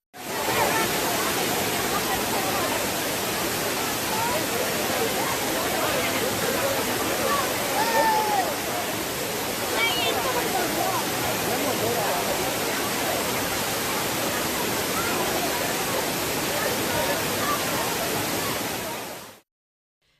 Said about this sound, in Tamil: வறண்டு கிடந்த சுருளி அருவியில் தண்ணீர் கொட்டத் தொடங்கியதால்